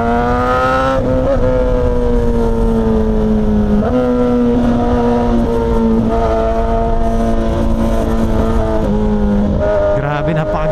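A Suzuki GSX-S1000 big bike roars up close and loud, its engine holding a steady, strongly tonal drone that rises and dips in pitch several times across a sustained run, with no break.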